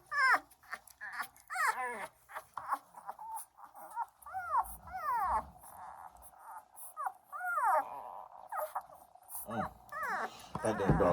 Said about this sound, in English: That damn dog is huge, y'all.